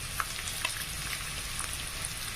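Chopped onion sizzles steadily in a pot of oil for methi malai matar, a continuous bright crackle with small pops, close and even throughout.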